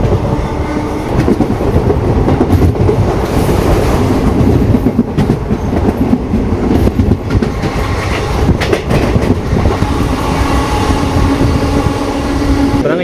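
Passenger sleeper train on the Coimbatore to Chennai line at high speed, a loud continuous rumble of wheels and carriages with clattering rail joints and rattling throughout, no talking.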